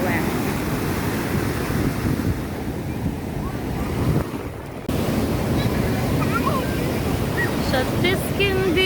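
Rough sea waves crash and surge steadily on a beach, loud and close, with heavy wind buffeting the microphone and a brief lull midway; a few faint vocal sounds surface near the end.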